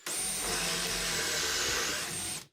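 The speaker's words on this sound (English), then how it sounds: "Justin bought the Craig model jig to drill out the holes" A steady high-pitched whine of a power drill boring hinge holes into cabinet wood through a drilling jig, running continuously for a couple of seconds before cutting off.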